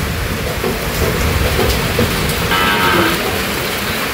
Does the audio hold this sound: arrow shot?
no